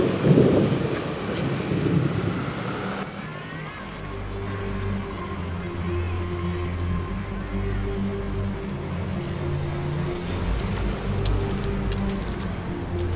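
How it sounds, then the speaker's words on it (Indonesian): Rain falls steadily in a thunderstorm and a low rumble of thunder rolls through near the start, with a wind-like hiss continuing throughout. "Iya, hujan nih."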